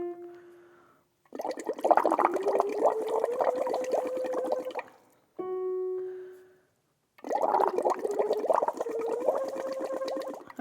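Breath blown through a straw into a glass of water while a voice sustains a rising sung tone, producing a long stretch of bubbling with a pitched hum, a short pause, then a second similar passage.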